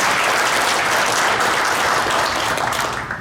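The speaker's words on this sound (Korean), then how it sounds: "감사의 박수를 보내주시기 바랍니다." Loud, dense applause from an audience at a Buddhist forum, continuous clapping that holds steady and then begins to fade toward the end.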